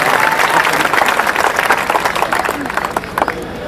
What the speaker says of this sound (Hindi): एक बार पूरी कमेटी के लिए तालियां बजाएं साहब